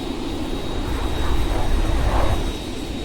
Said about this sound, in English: We have a very non-realistic Airbus A380, which is now taxiing inside of us.